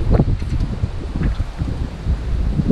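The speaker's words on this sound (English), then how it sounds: "It's windy as crap here, so you guys can't hear me" Gusty outdoor wind buffets the microphone in steady low rumbling bursts, loud and continuous throughout.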